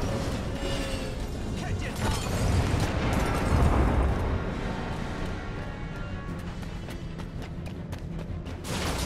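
Fire bomb explosions in the Spider-Man video game: a dense, continuous roar of blasts and crackling debris that swells to a loud peak near the middle and rumbles on steadily to the end.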